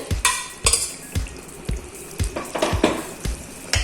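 Boiled mutton sizzles in a hot pan while a utensil repeatedly scrapes and stirs, making rhythmic clanks about every half second.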